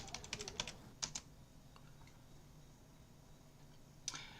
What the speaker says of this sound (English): I'm just typing a message